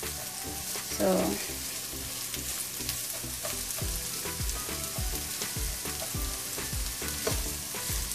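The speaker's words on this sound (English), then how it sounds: "we're gonna cook this onions, like I sauteed this onion until it gets softer" Chopped onions sizzle steadily in a hot frying pan, a continuous crackling hiss with occasional stirring scrapes, and a voice speaks briefly.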